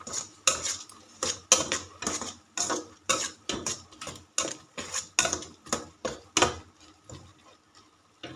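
Repeated metallic scraping and clinking of a utensil stirring a pot of boiling water with frog, about two strokes per second in a steady rhythm, close by with no talking.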